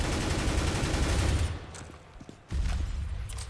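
Dense rapid gunfire from a Counter-Strike wall bang attempt in a professional match, loud and continuous at first, dropping briefly to quieter scattered shots, then resuming as a heavy sustained barrage.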